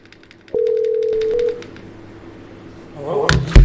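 A telephone line sounds a steady dial tone for about a second with faint clicks as a call is placed to a podcast guest, then goes quiet before a louder rustling, crackling noise builds at the end.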